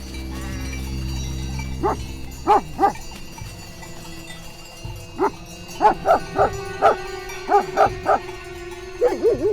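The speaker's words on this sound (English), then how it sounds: "The dogs instinctively form a defensive wall between the flock and approaching danger." Sheepdogs guarding a flock on Swiss alpine pasture bark in repeated bursts, a single bark near two and a half seconds and a steady run of barks after six seconds, over low rumbling background noise, no talking.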